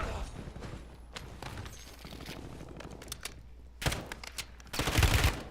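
Bursts of gunfire with heavy recoil in the Warzone video game on the Verdansk map, loud irregular volleys with a heavy burst near the end, over a steady background hum.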